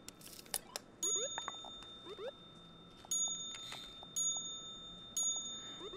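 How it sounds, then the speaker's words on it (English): A bright bell-like ding effect in the game CV2 rings several times at irregular intervals, each chime crisp and ringing briefly over faint clicks and a quiet background, with no talking. "Grab the ding sound."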